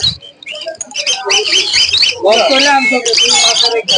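Colourful caged birds at the Mirpur bird market in Dhaka squawk and chatter loudly and close by, calls overlapping almost continuously, with someone talking beneath them.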